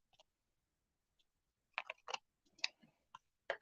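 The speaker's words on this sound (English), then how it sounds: "I just put my scissors right up to the edge and just trim" Scissors snip along the edge of patterned paper for spring card making, giving a few faint, sparse crisp cuts in quick small clusters against a quiet background.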